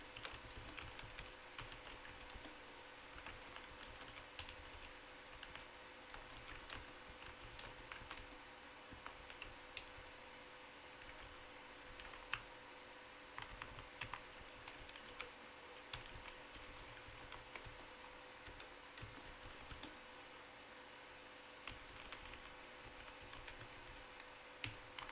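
Typing on a computer keyboard: a long, steady stream of faint, rapid key clicks over a low background hum, with one slightly louder tap midway and no speech.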